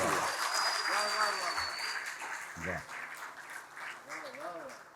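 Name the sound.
audience applause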